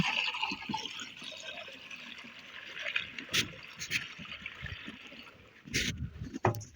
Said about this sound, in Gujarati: ચાલો ત્યારે હવે પંપ ભરી લઈએ